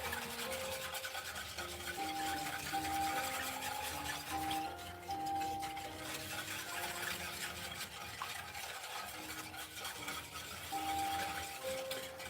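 Thick apple cider syrup thickened with cornstarch is whisked briskly in a pan, a steady scraping, rubbing rasp that runs throughout with background music playing underneath.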